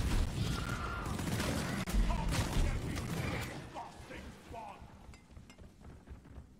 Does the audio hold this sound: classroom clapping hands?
no